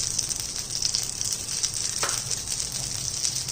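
Ghee sizzles on a hot dosa pan as an egg onion dosa cooks, a steady close frying hiss that carries on without a break and with no voices.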